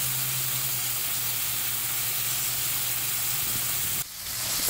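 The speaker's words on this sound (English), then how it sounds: "It's pan searing up really nicely." Stewed beef pan searing in a pan, a steady soft sizzle and hiss of frying meat heard alone, ending in a brief shuffling knock near the end.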